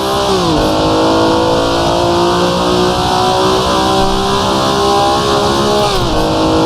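A vintage car engine driven hard in the Assetto Corsa racing game, revving loudly and steadily with rising and falling pitch through gear changes, close and alone with no talk.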